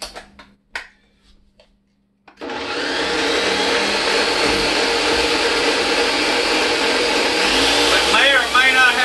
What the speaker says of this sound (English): Now we're going to puree this up a little bit more.